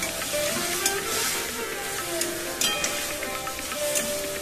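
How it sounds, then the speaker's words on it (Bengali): Raw cut potatoes, not fried beforehand, sizzle and fry in spice masala in a wok while a utensil stirs and scrapes them, with occasional sharp clanks over the steady crackle. "কেটে রাখা আলুটা দিয়ে খুব ভালোভাবে কিন্তু কড়াইতে নেড়ে চেড়ে নেব"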